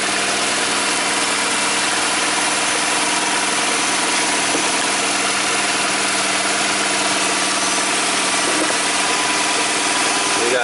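A 2002 Mini Cooper engine idling at a steady, even drone with constant level and no voices.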